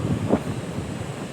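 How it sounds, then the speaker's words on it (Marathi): Sea waves wash onto a beach at Naravan on the Konkan coast, a soft continuous surf roar mixed with wind buffeting the microphone, with no voices. "आम्ही समुद्रावरती आलो आहे. हे बघा, समुद्र आहे."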